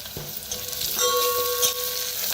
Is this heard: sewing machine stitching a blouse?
no